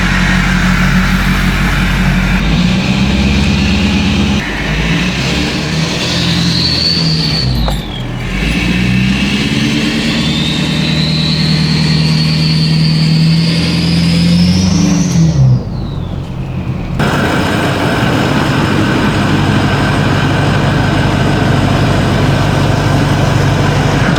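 Ford 6.4 Powerstroke diesel truck engine idling steadily, a loud continuous low rumble, rising in pitch through two revs before settling back to a steady idle; no talk.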